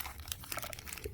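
A plastic bag used as packing material for a camera is handled and crinkled, giving brief, quiet, irregular crackles close by with no speech.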